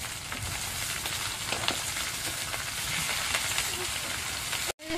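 Vegetables fry on their own in a pan, making a steady, moderate crackling sizzle with scattered sharp pops, and a short silent break just before the end.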